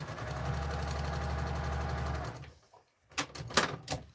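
Close, steady mechanical whir of a sewing machine stitching scrap fabric for a couple of seconds, then it stops and a few soft handling clicks and rustles follow.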